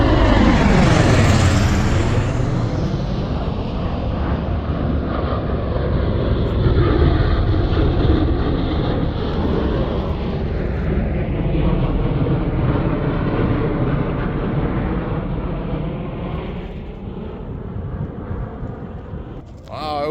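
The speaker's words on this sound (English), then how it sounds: "I'm right outside a Yuma Proving Range, so you get all kinds of these test planes" Military test planes pass low overhead near the Yuma Proving Ground along the Colorado River, a loud, sustained broadband roar that fills the whole stretch and slowly fades toward the end.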